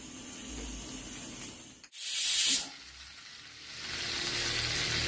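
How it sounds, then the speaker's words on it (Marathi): Butter and oil sizzle in a pan for pav bhaji, a close, steady frying hiss that cuts out briefly, flares into a sharp loud burst, then settles back into a continuous sizzle. "त्याच्यात एवढं बटर टाकायचं. तेल आणि बटर."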